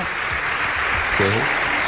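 A crowd claps loudly and steadily for a short burst, with a brief voice calling out over the applause.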